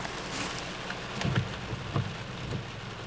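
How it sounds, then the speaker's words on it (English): Rainstorm in Athens, Georgia, a steady hiss of rain falling on surfaces with a few soft thumps and patters, heard outdoors at moderate level. "I'm having a rainstorm."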